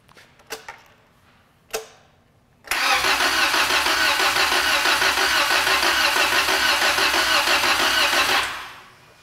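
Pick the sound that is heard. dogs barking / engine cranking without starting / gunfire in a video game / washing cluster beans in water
engine cranking without starting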